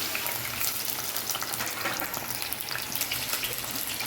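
Ginger, green chilies and shallots hit hot oil in a pan, making a loud, dense, continuous sizzle and crackle up close, with no one talking over it.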